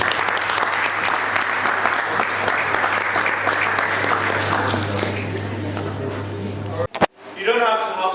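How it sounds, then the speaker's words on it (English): Steady, dense applause from a large audience at a tech talk on app development, sustained for about seven seconds before cutting off abruptly, followed by a brief burst of voices. "Clap."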